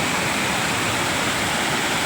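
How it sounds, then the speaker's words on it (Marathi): A waterfall near Mahad runs lower than usual during the rainy season. It gives off a constant, dense roar of falling water that fills the whole stretch evenly and close up, with no voices. "हा असा वॉटरफॉल आहे थोडं कमी पाणी आहे"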